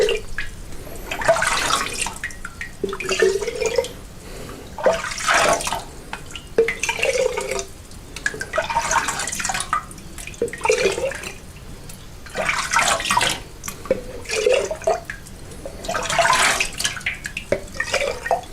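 Homemade apple pie moonshine ladled into mason jars, giving repeated pouring and dripping liquid splashes in bursts roughly every couple of seconds, close and fairly clear with no talking.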